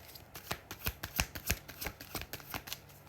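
A deck of tarot cards is shuffled by hand in a quick run of about a dozen crisp riffling slaps, close and fairly quiet, with no voices.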